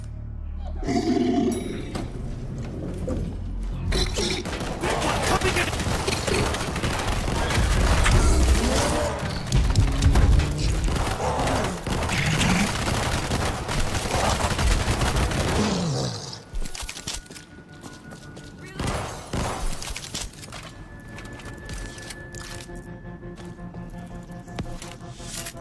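Gunfire in World War Z aboard a cruise ship's cargo deck, a sustained loud barrage of shots mixed with roaring zombie hordes, then thinning to scattered shots and quieter game sounds.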